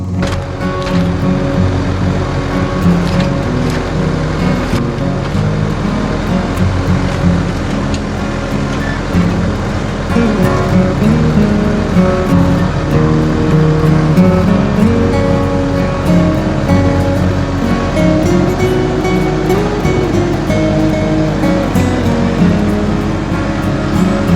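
Tractor fitted with a grapple working on an off-grid homestead, its engine droning steadily and loudly throughout, with rattling and clunking of the implement and no talking.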